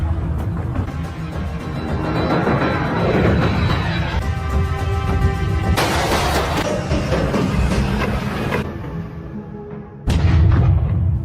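A volcanic eruption explodes in a film, with deep rumbling booms and sharp blasts rolling over one another, loud and dense, and a fresh heavy impact near the end.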